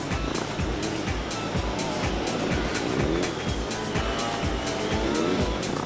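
Motorcycles swerving left and right through an offset slalom at steep lean angles, engines revving and rising and falling steadily throughout, loud and continuous with rhythmic throttle pulses.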